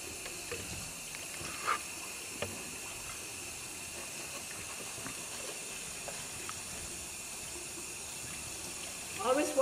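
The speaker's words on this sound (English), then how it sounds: "Always wash your fruits and your vegetables." Faucet water runs steadily into a kitchen sink as fruits and vegetables for a simple orange and tomato salad are washed, a soft even hiss with a few light clinks and splashes, louder handling at the end.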